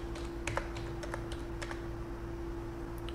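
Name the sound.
typing numbers on a computer keyboard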